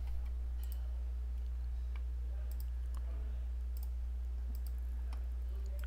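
Faint, light computer mouse clicks sound at irregular intervals over a steady low hum during remote desktop setup work on a computer.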